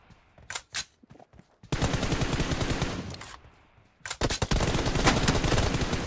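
Automatic gunfire in the BGMI battle royale game: a few short bursts early on, then long, sustained rapid-fire volleys that stop for a moment and resume, loud and close with no talking.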